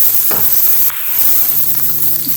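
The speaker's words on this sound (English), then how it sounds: "basically we want to get like a char on these onions" Onions charring in a hot pan for Nashville hot birria tacos give a steady, loud sizzle with a brief dip partway through, then the frying hiss continues close up.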